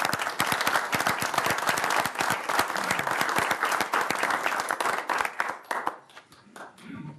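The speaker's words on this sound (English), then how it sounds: "Let's give them a round of applause." Sustained applause from a room of attendees at a Willmar city council meeting, dense overlapping hand claps for several seconds before thinning out and fading near the end.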